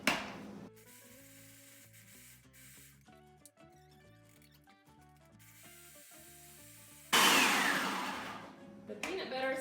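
Soft tonal music plays until a food processor bursts on near the end, loudly whirring as it mixes a no-bake peanut butter crunch ball mixture with raisins.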